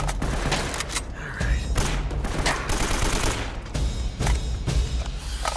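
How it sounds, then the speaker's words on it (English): Gunfire rattles through Uncharted: Drake's Fortune in a dense, continuous firefight, with rapid overlapping shots, heavy thumps and loud booms running the whole time without a break. "Gotta get the guy at the high points so they don't flank me. Some of these guys can take a lot of bullets."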